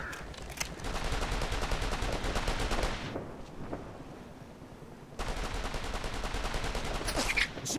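Sustained automatic gunfire in the military shooter game Operation Flashpoint: Red River, with rapid bursts and a brief pause before another long volley resumes, loud and close.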